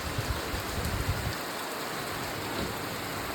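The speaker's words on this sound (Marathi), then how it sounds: "बघा किती पाऊस पडतोय यार हा पाऊस आज जातच नाहीये" Heavy rain pours down steadily, a dense hiss of drops on surfaces with a faint low rumble underneath.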